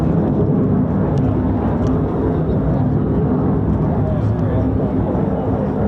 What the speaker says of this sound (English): Who we got now? F-15E Strike Eagles. They haven't done a quick climb yet.